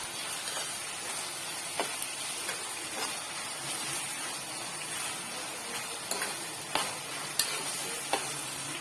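A mixture for zunka stirred and sizzling in a pan, with a steady frying hiss and scattered scraping ticks from the spoon, close and fairly quiet, with no voices.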